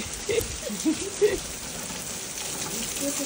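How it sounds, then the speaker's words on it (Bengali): Rain falls as a steady patter on a surface. Brief voices sound near the start, then the rain continues alone. "এত সুন্দর বৃষ্টি হইতেছে।"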